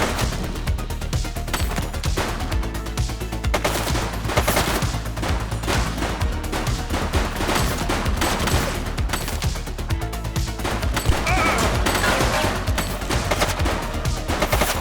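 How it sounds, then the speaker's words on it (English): Sustained gunfire from the police game The Precinct: dense, overlapping bursts and volleys of shots fill the whole stretch at steady high loudness, with no speech. "Shots fired!"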